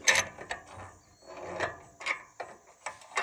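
A ratchet tightens a bolt on a Kuhn GMD600 mower during a belt change, giving close, repeated metallic clicking strokes in an irregular rhythm with no speech.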